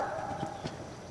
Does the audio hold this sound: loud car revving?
no